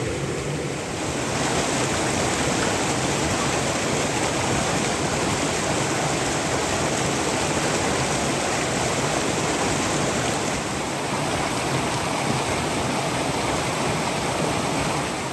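Rushing stream water roars steadily and loudly throughout, a dense unbroken wash of splashing and gurgling with no voices.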